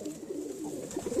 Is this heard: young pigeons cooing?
yes